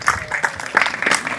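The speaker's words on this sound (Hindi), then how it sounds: "ताली बजाकर बताइए कि अच्छा किया कि नहीं।" An audience at a spoken lecture claps in a scattered, uneven burst of hand claps that carries loudly through the whole moment.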